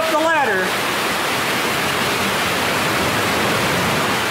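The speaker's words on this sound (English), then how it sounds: "the water is now just filling up the room" Water pours in and fills a hydroelectric turbine room, a dense steady rushing roar like a waterfall, continuous and loud, with a brief voice-like sound at the very start.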